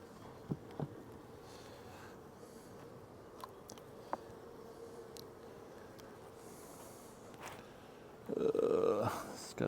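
Honey bees hum around opened, neglected beehives at the end of the nectar flow, a faint steady drone with a few brief close buzzes and a louder swell near the end.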